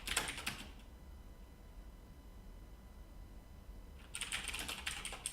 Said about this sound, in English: Why am I typing in this piece of garbage?